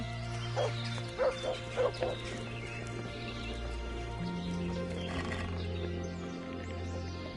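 A dog barking in the video game Kingdom Come, several short barks around the first two seconds over sustained game music with low tones, then the music continues alone.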